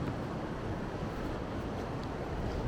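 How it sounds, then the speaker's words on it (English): Ocean waves wash on a beach shore in a broad, constant roar of surf mixed with wind buffeting, steady and fairly loud throughout with no voices. "It's a beautiful spot upon the ocean shore, the shore of the ocean."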